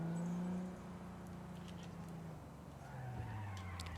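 In Cyberpunk 2077, a car's tyres skid with a faint rising squeal that sweeps and bends under a low engine drone, quiet and fairly distant, with brief ticks and clicks scattered around it.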